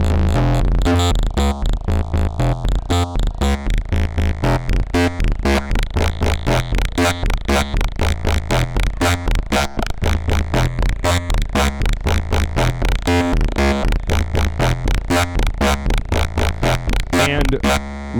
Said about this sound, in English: it does have the ability to do pretty extreme filtering